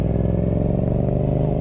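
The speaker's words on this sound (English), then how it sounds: "You might not have noticed, but I like revving my bike now when I have a big boy exhaust." A motorcycle fitted with a loud aftermarket exhaust idles and revs close by, a deep, continuous throbbing rumble with a slight rise in pitch, and no talking.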